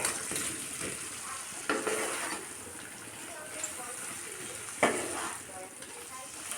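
Potatoes and cauliflower sizzling in spiced oil in a wok while being stirred, a soft continuous fry hiss broken by a few sharper scraping stirs, fairly quiet.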